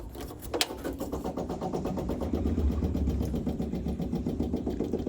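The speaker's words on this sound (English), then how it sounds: "now since this is back in running condition, let's start the engine and make sure we didn't do anything wrong" A 1960 MG MGA 1600 Roadster engine cranks and catches with a sharp start, then settles into a steady, rhythmic idle that chugs evenly and close by for several seconds.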